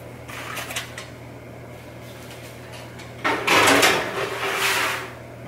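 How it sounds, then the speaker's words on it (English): An oven door opens and thumps shut as food goes into an oven heated to 400 degrees, a short burst of clattering metal over a steady low kitchen hum. "now I'm gonna put it in an oven at 400 degrees"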